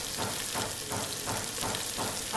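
Chicken salan masala being fried in a pan, a steady, close sizzle with soft rhythmic stirring swells repeating every half second or so, no voices over it.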